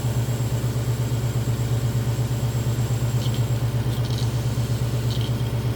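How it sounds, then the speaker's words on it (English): A car engine idles steadily with a regular low pulsing throb while its air conditioning compressor runs during a freon recharge, with faint hissing bursts toward the end. "you're gonna hear the compressor turn on once you start doing that"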